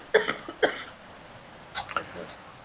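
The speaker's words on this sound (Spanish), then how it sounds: "perdón, con mucha tos" Two sharp coughs from a woman close by, a short pair near the start followed by another, then quieter throat noises and soft voice sounds trailing after.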